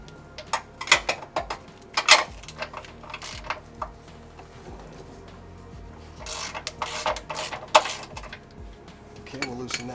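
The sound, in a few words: removing bolts from a Toyota 80 Series skid plate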